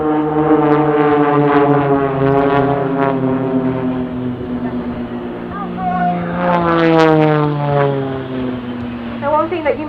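An Extra 300 aerobatic propeller plane from The Blades display team flies a Spitfire roll at the Dunsfold Wings and Wheels airshow. Its loud, sustained engine drone shifts in pitch through the manoeuvre, with announcer commentary over it.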